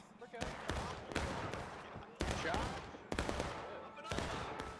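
A volley of Union musket fire on a Civil War battlefield in a multiplayer game. Several sharp, heavy reports land in clusters roughly a second apart, each followed by a rumbling tail, at a moderate distance.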